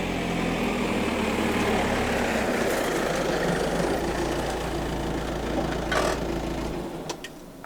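A car loaded with water containers in the boot and back seat drives uphill on an off-grid homestead in Portugal. A steady, close engine drone runs throughout, easing slightly near the end, with a few faint clicks.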